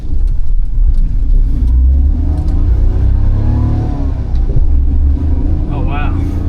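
A Daihatsu Move kei car's non-turbo engine idles while warming up, a loud, close, steady low rumble with a slight rise in revs near the end; a voice speaks briefly over it.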